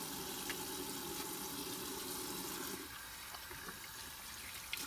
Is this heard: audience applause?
no